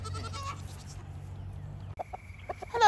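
Backyard chickens clucking near a garden where goats are kept, with a cluster of close calls at the start, a quieter stretch, then short bursts of clucking toward the end.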